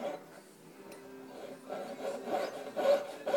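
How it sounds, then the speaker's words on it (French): A jeweller's fretsaw works through a small metal jewellery piece, starting from a drilled hole, making soft rasping strokes that grow slightly louder and more rhythmic toward the end, close and alone. "je passe ma scie dans un des petits trous de perçage qui a été fait"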